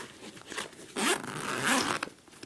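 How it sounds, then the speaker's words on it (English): Zipper on a Maxpedition Jumbo Versipack bag being pulled, a couple of quick raspy zips with handling rustle in between, close and clear. "And this zipper."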